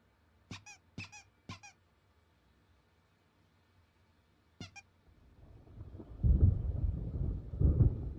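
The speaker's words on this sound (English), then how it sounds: "There's a storm coming. Oh, what a storm." Thunder rolls in during a storm in the video game Alan Wake: a few sharp squeaks come first, then a low rumble builds and swells loudly over the last couple of seconds.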